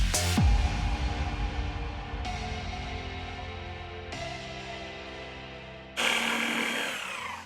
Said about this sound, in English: We're going to be doing a light machine polish to prep the surface